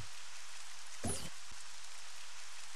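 Rain in Resident Evil Code: Veronica X, a steady faint hiss of falling rain with a brief louder splash or gust in the middle, no voices.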